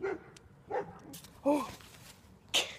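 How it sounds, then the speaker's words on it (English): A dog barking a few times on an evening walk, short separate barks at a moderate distance, with people talking nearby. "That's a dog."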